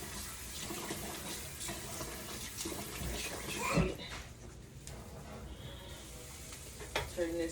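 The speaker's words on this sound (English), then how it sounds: "just rinse this off real quick." Drained chickpeas are rinsed under a running kitchen tap, a continuous close splashing rush of water with small clatters and a brief louder burst midway.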